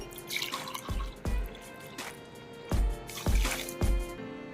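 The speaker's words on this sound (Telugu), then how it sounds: "ఇదే గ్లాస్తో టూ గ్లాసెస్ వాటర్ యాడ్ చేసుకుందాము ఈ షుగర్లోకి" Water is poured from a glass into sugar for syrup in several short gushes, close and fairly loud, with a bright ringing trickle between them.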